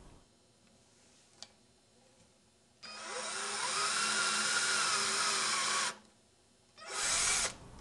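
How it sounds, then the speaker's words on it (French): A power drill bores a small 5 mm hole, with a faint tick before it, then one loud, steady high-pitched whine lasting about three seconds, a short pause, and a brief second burst, all close up without voices. "On commence par un perçage de petit diamètre"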